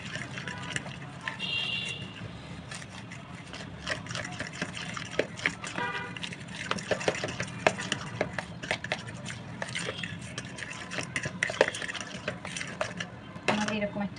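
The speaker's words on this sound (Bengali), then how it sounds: "আস্তে আস্তে ধীরে ধীরে করে মিশাতে হবে।" One cup of flour is slowly folded into cake batter in a bowl, with soft wet stirring, scraping and occasional utensil clinks against the bowl, while someone talks over it.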